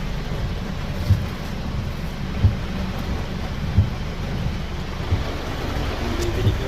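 Steady heavy rain hisses throughout, dense and constant, with soft low thumps recurring every second or so beneath it.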